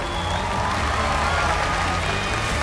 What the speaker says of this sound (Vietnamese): Ai ủng hộ Trọng Bằng vỗ tay lên nào.